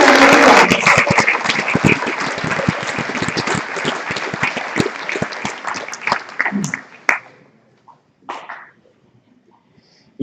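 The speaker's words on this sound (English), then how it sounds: "Let's give them a round of applause." A conference audience at a state youth leadership event breaks into loud, dense applause that fades to scattered claps and then silence.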